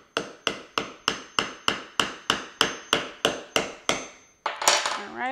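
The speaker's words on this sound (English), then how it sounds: "So I'm going to make sure this is stable and use a hammer." A hammer strikes a screwdriver into the eye of a coconut in about a dozen evenly spaced, sharp taps, close and clear, followed by a brief rattling scrape.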